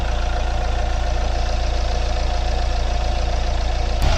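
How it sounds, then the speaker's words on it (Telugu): A Hyundai i20 diesel engine idles with a loud, steady low rumble and even rhythmic clatter, heard close up and alone. "అండ్ ఒకసారి ఇంజన్ నాయిస్ అయితే వినండి."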